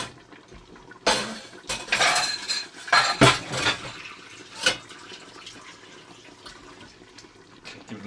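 Clinking and scraping of a spoon against a bowl as chicken curry is stirred off the heat, a few loud close clatters in bursts over a quiet kitchen background.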